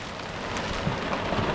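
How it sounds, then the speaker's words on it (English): Hail falling outdoors during a farm trail ride, a dense, loud, continuous hiss of pellets hitting the ground and gear, steady throughout with no voices. "Oh my god, it's hailing."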